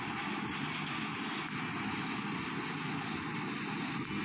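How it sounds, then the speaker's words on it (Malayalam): An airplane in a battle royale video game drones steadily and loudly, a continuous broadband engine roar holding without a break for the whole span, with no talk over it. "ഈ പ്ലെയിൻ പോയി ക്രാഷ് ആവുവാടേ."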